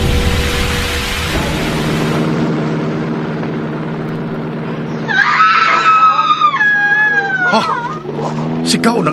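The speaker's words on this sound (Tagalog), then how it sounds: "Sigaw ng isang babae." A woman screams in a horror radio drama about an aswang, a loud wavering shriek that rises midway and cuts over a steady background of dramatic effects and rumble.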